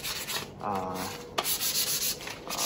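A wooden shime-daiko bachi drumstick is sanded by hand in close rasping strokes, a series of rough scratchy rubs with short pauses between passes.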